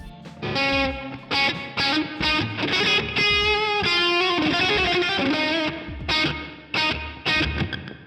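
An electric guitar through the Neural DSP Archetype Tom Morello plugin plays distorted chords and riffs, a reverb set to a low mix blooming just after each attack and fading in short tails, loud and continuous with brief gaps.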